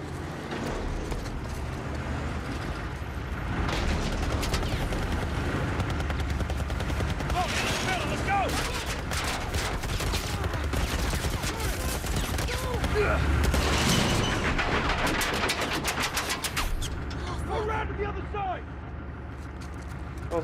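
Heavy gunfire in The Last of Us Part 1, dense rapid bursts of automatic shots and clattering impacts running almost nonstop, with people shouting and talking over the din.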